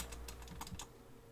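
Quick, light clicks from a computer keyboard patter in short uneven bursts, close by and fairly quiet, with no voices.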